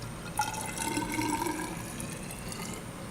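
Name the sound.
acetone and hexanes solvent poured between beakers to mix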